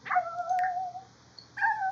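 A virtual dog in the Sims 4 Cats & Dogs game whimpers in two high, drawn-out whines separated by a short pause, clear and close with no talk.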